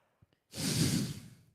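A man breathes heavily in the background, a single long hissing exhale like air pumped into a bike tire, preceded by a couple of faint clicks.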